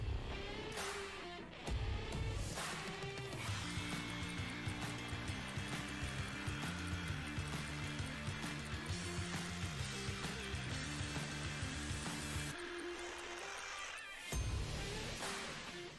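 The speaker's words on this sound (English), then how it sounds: "let's see what the new Sawzall blade can do" A Milwaukee Sawzall reciprocating saw cuts into a tree stump with a loud, continuous buzzing drone that rises and falls slightly with the stroke, close up, then stops briefly before starting again.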